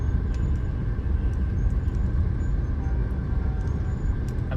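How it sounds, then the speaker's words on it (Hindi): Dense, steady roar of jammed Mumbai road traffic, with engines idling and rumbling close by, occasional brief high hisses like air brakes, and no talk. "Just look at the traffic, it's completely jammed."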